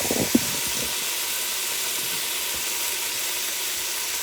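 A steady, loud hiss of steam released from an Instant Pot pressure cooker making chicken noodle soup runs unbroken throughout, broad and close, with a faint click near the start.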